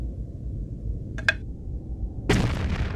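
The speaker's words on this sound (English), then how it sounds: "Some more explosions all the time." Game explosions in a Tomb Raider level editor custom level, King Arthur Project: a short crackling burst, then a louder rumbling blast that lingers over a steady low ambient drone.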